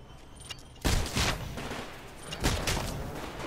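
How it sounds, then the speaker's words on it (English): Smart pistol fire in the video game Titanfall comes as a few loud, close, sharp bursts, one around the first second and another near two and a half seconds, over a busy background of game noise. "Smart pistol has a limited range as well."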